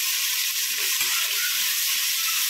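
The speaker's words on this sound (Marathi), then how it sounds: "आता यामध्ये आपण कांदा काटला होता तो ॲड करून घेऊया। कांदा पण लालसर होईपर्यंत फ्राय करायचा।" Chopped onion frying in oil in a pan, a dense, steady hiss of sizzling that stays loud and close throughout with faint stirring underneath.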